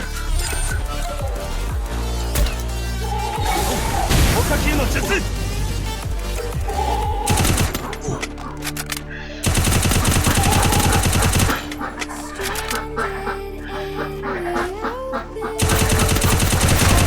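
Gunfire rattles through a battle royale video game match in rapid automatic bursts separated by short pauses, heard under continuous talk from a player commentating.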